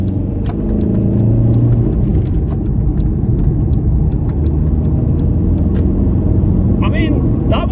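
Volkswagen Bora 1.9 PD diesel engine pulling in second gear from about 2000 RPM, a steady mid-pitched drone and road rumble inside the car, with someone talking over it throughout.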